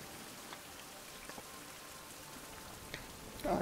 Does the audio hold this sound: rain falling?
yes